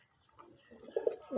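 Local red pigeons give a brief, faint coo or two, soft and close in a quiet setting.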